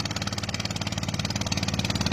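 A Russian-made engine runs steadily at idle beside the Sutlej river, close up with a rapid, even chugging pulse and a low throbbing hum that holds constant throughout, with no talk.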